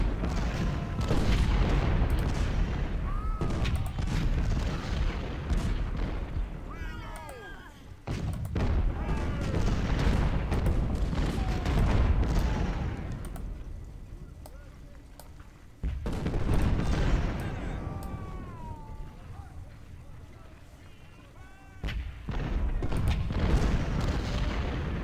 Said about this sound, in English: Oh, they might be rifled artillery.